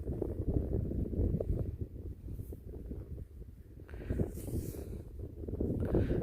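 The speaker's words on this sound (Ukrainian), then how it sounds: "Я розвернувся, бо вітер сильний." Strong wind buffets the microphone in a continuous low roar, gusting louder and softer throughout, with no voices.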